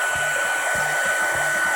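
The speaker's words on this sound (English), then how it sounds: "So I'm going to use my heat gun or hair dryer" A hair dryer or heat gun blows steadily to dry wet paint on neon graffiti lettering, a constant loud whooshing hiss with a thin high whine and faint low rhythmic thumps beneath.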